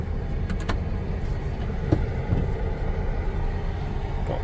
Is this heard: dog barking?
no